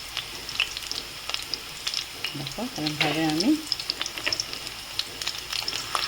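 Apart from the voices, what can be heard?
chicken koftas frying in oil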